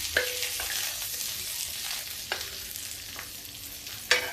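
Pointed gourd with cumin frying in a pan, a steady broadband sizzle throughout with a few sharp clicks of a spoon stirring against the pan.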